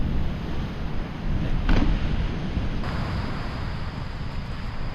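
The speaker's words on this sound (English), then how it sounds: "The swell and the breaking waves are huge today" Rough sea with a big swell breaking on a beach at Southbourne, a continuous low rushing surge with heavy wind buffeting the microphone and one brief louder crash partway through, no talk.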